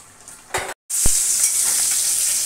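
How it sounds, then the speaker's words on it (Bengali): Fish frying in a pan of hot oil, a steady close hiss broken by a brief louder burst, a moment of silence, then a sharp knock before the sizzle resumes. "এই যে মাছ ভাজা দিয়ে বসিয়ে দিয়েছি"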